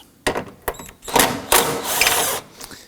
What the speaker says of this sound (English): Let's use our 10mm socket to do this.